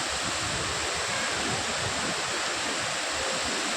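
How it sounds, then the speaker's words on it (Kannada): Overflowing water from Daroji lake in Sandur taluk, Ballari district, cascades down stone spillway steps as a steady, dense roar of falling water, close and continuous with no speech. "ಯಾವ ಥರ ನೀರು ಬೀಳ್ತಾ ಅಂತ ನೋಡಿ ಸ್ಟೆಪ್ ಆನ್ ಸ್ಟೆಪ್"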